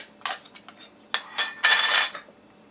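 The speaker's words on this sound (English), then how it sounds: "And then we are going to put the lids on." Metal lids set onto glass jars of dry beans, heard as a few close, sharp clinks and clatters, with one longer rattling burst near the end, and no talk.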